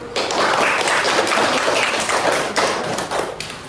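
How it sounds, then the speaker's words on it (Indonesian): Classroom applause from a group of students, a loud, dense burst of overlapping claps lasting a few seconds and tapering slightly at the end. "Tepuk tangan dulu."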